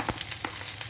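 Mustard seeds and onion fry in hot oil, a dense steady sizzle broken by quick sharp pops and crackles, close and loud with no voices.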